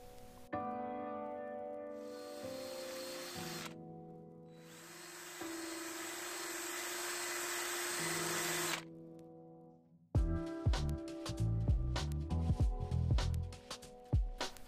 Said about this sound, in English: Just going to take a drill and quickly hone out the corrosion